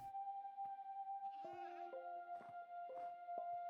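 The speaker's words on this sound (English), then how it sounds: "Here, let's get a screenshot of the goat." Short bleats from a goat in the mountains of the video game Minecraft, several brief calls over a steady tonal music background at low level.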